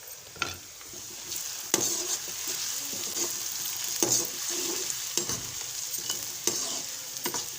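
Garlic paste and onions fry in a pan with a steady, close sizzle, broken by a few sharper crackles and the scrape of stirring. No one speaks.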